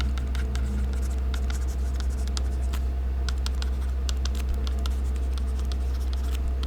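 Pen or pencil writing by hand on paper while noting a hypothesis about pesticide levels, a steady scratchy patter of short strokes throughout, close and fairly quiet over a constant low hum.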